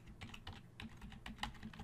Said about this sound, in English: I'm going to go ahead and type in a proper name,